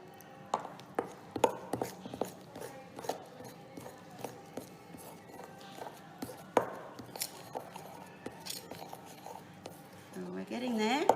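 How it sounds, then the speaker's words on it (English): A bread and butter knife cutting butter into flour for a dough, a string of soft irregular scraping taps against a bowl, fairly quiet, with someone speaking over it. "I'm using a bread and butter knife because that is the best thing to mix it with"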